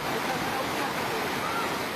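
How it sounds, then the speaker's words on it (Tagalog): Strong floodwater rushes past a house during a typhoon, as a steady, loud, broadband roar with no pauses, heard from a bridge. "Kita rin sa video na ito mula naman sa tulay ang malakas na pagragasa ng tubig baha sa naturang bahay."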